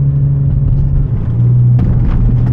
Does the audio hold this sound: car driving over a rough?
yes